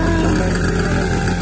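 A motorcycle engine runs steadily and close by, a constant low drone with a dense rumble filling the whole short moment and no clear revs.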